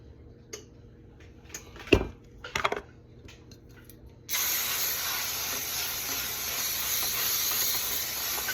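Cooking spray hissing from a can onto a pan on a slow-warming stove, a long continuous spray that starts abruptly after a few light kitchen clinks and taps.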